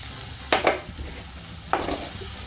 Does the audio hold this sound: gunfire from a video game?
no